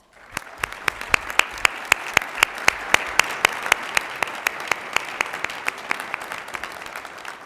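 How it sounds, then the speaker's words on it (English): Audience at a city Black History celebration clapping, with sharp regular claps close to the microphone standing out over a softer wash of applause from the crowd. "let's give everyone a round of applause"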